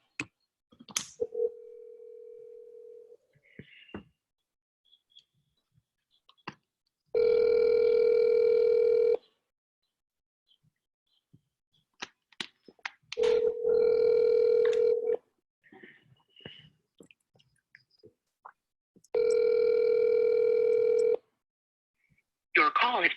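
A telephone call being placed, with three long, evenly spaced ringback tones in a quiet room, separated by pauses and brief clicks, with faint movement between rings.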